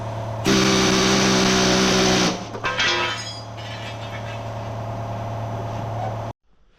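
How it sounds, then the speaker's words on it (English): A grinder cuts at rusty bolts on a snow plow: a loud, steady high-pitched whine for about two seconds, then rougher, uneven grinding that continues until an abrupt stop. "Alright, I'm gonna grind some more."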